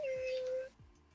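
A cat meowing in the game VRChat: one short, clear meow with a falling pitch, followed by faint background noise.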